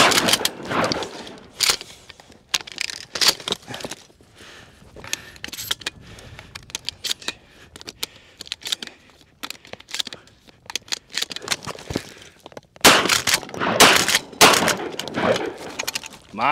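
A Remington 870 pump-action shotgun firing a string of rounds, loud irregular blasts separated by pauses and mechanical clatter of the action being worked.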